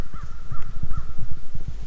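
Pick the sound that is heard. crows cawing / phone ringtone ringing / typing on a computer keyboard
crows cawing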